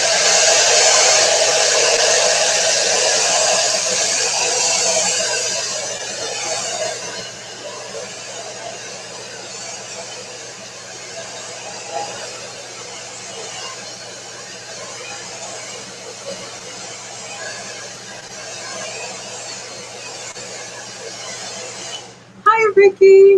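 A dryer blows air to dry paint on a craft clipboard: a loud, steady whooshing whir that eases to a lower, softer hum and stops with a few clicks at the end.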